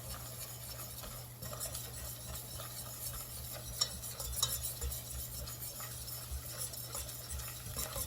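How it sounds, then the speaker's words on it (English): Flour is stirred into tomato gravy in a pan over medium heat. A spoon scrapes and swishes continuously through the thickening mixture over a soft, low sizzle, with occasional light knocks against the pan. "I'm going to add the flour, 1/3 cup of flour, and mix it until it's combined and smooth"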